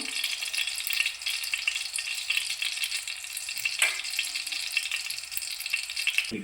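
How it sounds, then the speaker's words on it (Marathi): Cumin seeds sizzle steadily in hot oil in a home kitchen pan, a continuous crackling hiss with brief stirring clatter, close and alone without talk. "आता तेल चांगलं गरम झालेलं आहे, आपण जिरं टाकून घेऊया।"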